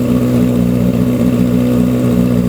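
A Yamaha XJR1300 custom motorcycle engine idles steadily at raised revs from cold, a constant loud mechanical hum with no speech.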